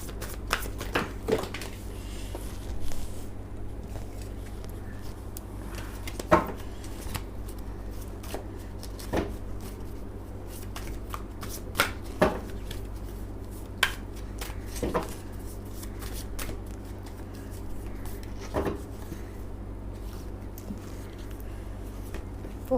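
A deck of tarot cards is shuffled in a quiet room, soft riffling and brisk slapping bursts recurring every few seconds over a low steady hum, near and gentle.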